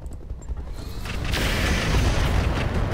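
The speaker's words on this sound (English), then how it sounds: "All right, just missile hits." Missile hits exploding in the video game Roguetech: a rolling, heavy boom swells and sustains into a dense roar of blasts, loud and close with no speech.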